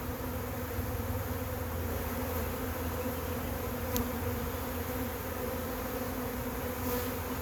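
A honeybee swarm moving into a trap fills the air with a constant, dense buzzing drone, steady and enveloping from start to finish with no voices.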